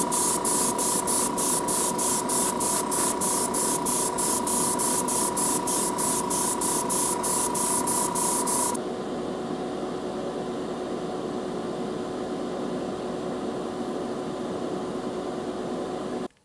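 Quicksilver paint hisses from a spray can onto a Hot Wheels Flatout 442 car in a steady, moderately loud stream with a fast pulsing flutter. The spray cuts off about halfway through, leaving a quieter continuous hiss, and no voices are heard.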